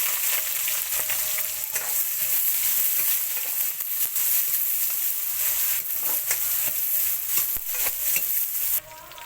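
Onion hits hot oil with green chillies already in the pan, making a loud, dense sizzle up close, with stirring scrapes throughout and a sudden drop near the end.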